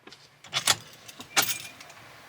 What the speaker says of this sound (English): Wait, where are my keys?